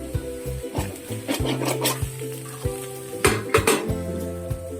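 A spoon stirs eggs into moringa leaf thoran in a pan, with repeated metallic scrapes and clinks against the pan over a soft sizzle.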